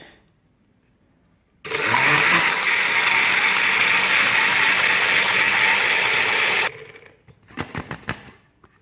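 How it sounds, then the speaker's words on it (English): Blender running steadily for about five seconds as it purées a passion fruit, avocado and banana smoothie, a loud continuous whir that stops abruptly, followed by a few light knocks and clatters. "I'm just gonna go ahead right ahead and just blend this away"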